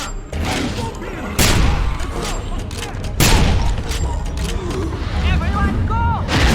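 Sniper gunfire in the video game Wolfenstein 2009: two heavy booming shots ring out amid dense battle noise and a shouted warning, loud and close.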